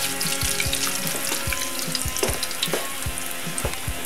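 Breaded chicken fried steaks sizzle and crackle in oil in a pan over medium-high heat, a dense, close popping hiss with rhythmic thumps from handling, and no voices.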